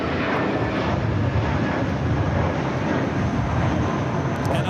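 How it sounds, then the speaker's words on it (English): A Qantas Airbus A380 flying the downwind leg at LAX gives a steady, broad jet roar that holds loud and even throughout, with no pauses. "Qantas A380 Super, Flight 11, coming in from Sydney now on the down the wind leg."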